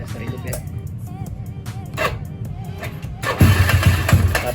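A Yamaha Mio scooter with a broken valve spring repair turns over and fires up, a rattling starter and engine chatter building into a louder, rougher idle near the end.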